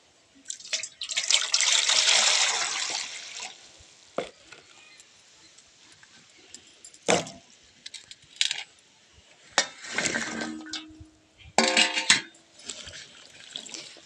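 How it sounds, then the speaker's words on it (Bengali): Cut chalta fruit pieces rinsed with water in a bowl for pickle: a longer splashing wash at the start, then scattered drips, trickles and clinks of wet pieces, fairly close, with no talk. "এবারে ধুয়ে নেব জল দিয়ে একটু"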